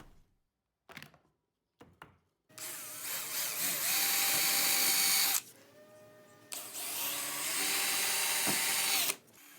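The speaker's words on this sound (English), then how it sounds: "What I'm doing with the drill is I'm slowly rocking the drill forwards and backwards" A power drill whines loudly as it bores into wood for apple boxes in two long bursts, rocked slowly back and forth, with a brief pause between them, preceded by a few short knocks.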